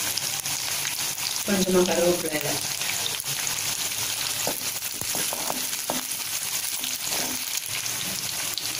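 Sliced onions fry in oil in a pan for a Tamil oil brinjal curry, with a steady broadband sizzle throughout and a brief louder burst early on, as someone speaks briefly over it.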